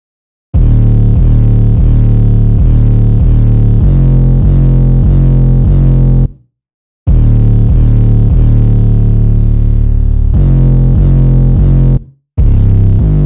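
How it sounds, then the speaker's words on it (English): Trap-beat 808 bass drum pattern with a slight crystalline reverb effect: deep booming bass hits repeating in a steady rhythm, loud and alone, broken by two brief gaps of silence. "The first sound here is this 808 called Fashion."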